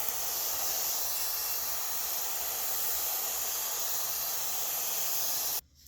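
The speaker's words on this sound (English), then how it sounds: "And then we're going to moisten it just because it is a little dry." A steady, close spray of water hisses onto dry terrarium substrate of sand mix for nearly six seconds, then cuts off abruptly.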